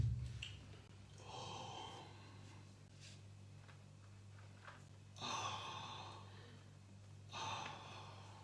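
Slow, audible breaths are drawn in and let out during Om Ah Hung breathing yoga, in soft, long, close airy swells with a steady hum underneath and no talking.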